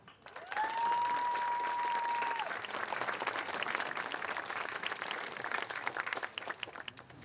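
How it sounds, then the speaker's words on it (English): Sustained applause from a graduation audience at an 8th grade ceremony for the student co-president, steady dense clapping for about seven seconds with a brief tonal whine near the start. "could we give a well-deserved round of applause for Zain?"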